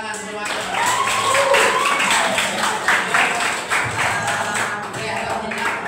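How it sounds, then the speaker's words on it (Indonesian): Students in a classroom give a round of applause, a steady patter of many hands clapping together for several seconds at moderate loudness. "Oke, tepuk tangan semuanya."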